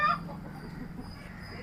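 A country hen on a rooftop poultry farm clucks close by in a brief, lively burst at the start, followed by softer low clucking and farmyard rustle.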